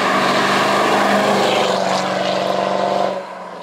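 A Mercedes-Benz SL55 engine drones loud and close with a strong, steady harmonic tone that holds for about three seconds, then drops away sharply as the sound recedes.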